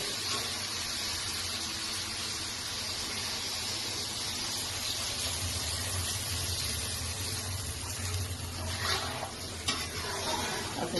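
Water poured into a frying pan for a thin rohu fish curry with potato and drumstick meets the hot oil with a broad, steady hiss and some stirring scrapes, fairly soft and close.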